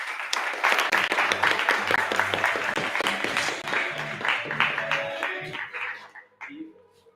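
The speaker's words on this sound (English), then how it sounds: "Let's give Yves a round of applause." Audience applause for speaker Yves at a software presentation, a dense burst of clapping with voices mixed in, fading toward the end.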